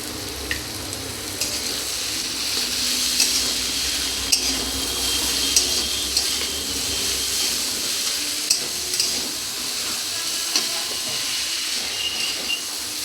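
Peas fry with salt in a hot pan, giving a steady, close sizzle and hiss. A utensil scrapes and clinks lightly and irregularly as the food is stirred, and no one speaks.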